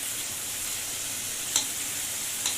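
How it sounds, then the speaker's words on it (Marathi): Chopped tomato sautéing in a pan for a spicy Varhadi-style pithla, giving a steady soft sizzle throughout with two brief scraping clicks of a spoon near the end; no voices. "आता हा टोमॅटो आपण नरम होईपर्यंत परतवून घेऊया"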